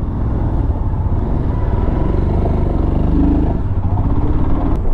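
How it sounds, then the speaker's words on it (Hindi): A motorbike rolls along a street with a loud, steady engine rumble and some clatter, the pitch nearly constant and close up, with no voices. "एंड चलो अब चलते हैं वापस घर पे बाइक उठा के।"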